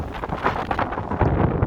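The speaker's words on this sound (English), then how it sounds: "Very windy all of a sudden." Gusty wind buffets the microphone on a downtown Chicago street in Streeterville, a short, steady roar of rumble and rustle.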